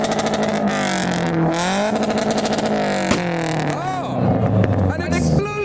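A yellow Mark 1 Ford Focus fitted with a 2-litre ST170 engine revs hard at a street car meet on England's largest island, its exhaust popping with one sharp bang midway, close and loud over crowd chatter.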